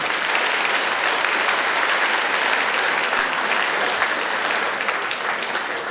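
Sustained audience applause at a pensioners' Christmas party, dense and steady throughout with no voices over it.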